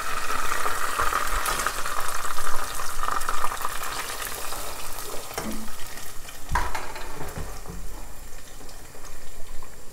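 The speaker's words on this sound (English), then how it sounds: "I'm going to use this same oil to make the sauce. So I'm going to put my onions in" Onions sizzle and crackle in hot oil, a loud steady frying hiss with occasional stirring clatter, no talking.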